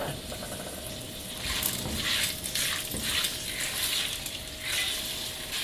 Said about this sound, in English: And stir this through while you're frying off the nuts.